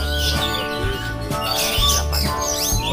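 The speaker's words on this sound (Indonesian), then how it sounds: "ini pemenang kacer yang juara 2 ya" Continuous, dense song from a white-rumped shama (kacer) at a bird contest: rapid warbling phrases, chirps and rising whistles, loud and close, layered over a steady low background hum.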